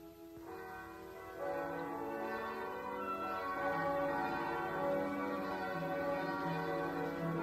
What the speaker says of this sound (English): Bells. Why are they ringing?